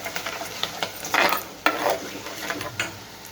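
Onions frying in a pan as a spoon stirs them, with short bursts of scraping and sizzling at close range, clustered in a few strokes, and no voices.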